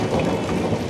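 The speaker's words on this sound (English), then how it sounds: "the thunderstorm." Steady heavy rain with a deep rumbling thunder undertone fills the scene, a dense continuous wash of noise with no voices.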